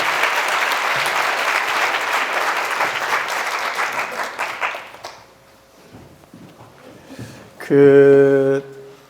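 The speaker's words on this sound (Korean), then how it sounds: "여러분들 세 사람 다시 한번 박수 한번 주시죠." An audience of new firefighter trainees at a fire academy lecture applauds three people with dense, loud clapping that fades out after about five seconds, followed by a quieter room and a brief sustained tone near the end.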